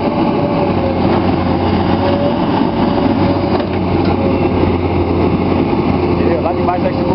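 A SANY excavator's heavy engine drones steadily up close with a low rumble and whine, holding constant throughout.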